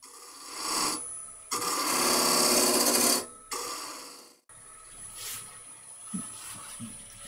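A ball gouge cuts across the bottom of a wooden bowl spinning on a lathe, giving loud, close bursts of rasping, shearing scrape with short pauses between passes, then softer tool rubbing.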